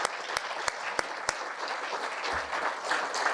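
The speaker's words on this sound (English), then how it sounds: "Can we give one more round of applause for all 5 of our wonderful inductees?" Audience applause at a university athletics Hall of Fame induction ceremony, a full crowd clapping steadily, opening with a few sharp individual claps ringing out above the mass.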